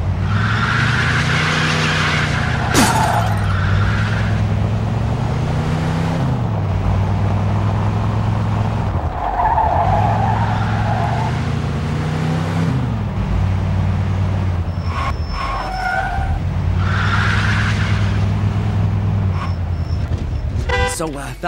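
A car in the Mafia 2 video game revving hard with rising and falling engine pitch and bursts of tire skid, loud and close, with game voices talking over it.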